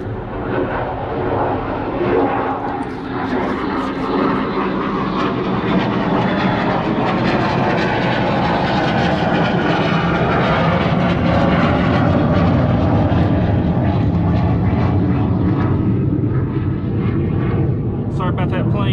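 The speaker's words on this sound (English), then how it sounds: "Sorry about that plane there." An airplane passes overhead during outdoor redfish filleting, a loud broad engine roar that holds for the whole stretch while someone talks over it.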